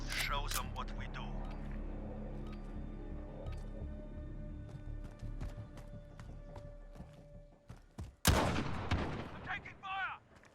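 Gunfire in a Call of Duty Modern Warfare game: rapid, close shots crackle over a low rumble of battle. A sharp, loud blast hits near the end, and voices shout over the fighting.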